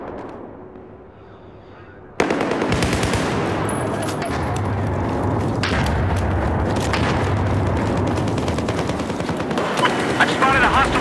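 Machine gun fire in Battlefield 4 erupts abruptly after a quiet opening and continues as dense, loud rattling bursts with other gunfire and battle noise, with voices talking over it.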